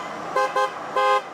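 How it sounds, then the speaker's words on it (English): A car horn honks three times, two short toots and then a longer blast, over steady road noise at moderate distance. "I just love when people honk."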